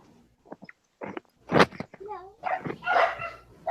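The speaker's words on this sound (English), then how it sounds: "Oh God, dog barking." A dog barks in several short, uneven bursts, some louder yips among them, mixed with people talking nearby.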